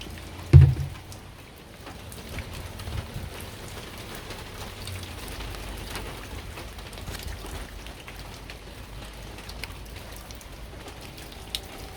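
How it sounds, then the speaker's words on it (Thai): Steady rain falling on a home garden with potted tomato plants, a constant even hiss of drops on surfaces, with one brief thump near the start and no voices. "ฝนกำลังตกพอดีนะคะ"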